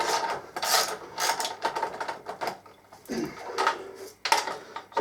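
Ratchet working a bolt loose on a trike's front forks, quick repeated clicking strokes in uneven bursts, close by and fairly loud, no speech over it.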